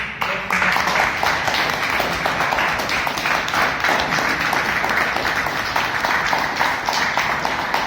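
Audience applause fills a Toastmasters meeting hall, a dense, steady round of clapping that starts abruptly and carries on loud and close for several seconds with no voices over it.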